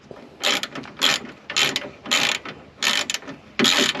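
Ratchet turning a 12 mm bolt during a car radiator change, loud close bursts of rapid clicking in short strokes separated by brief pauses.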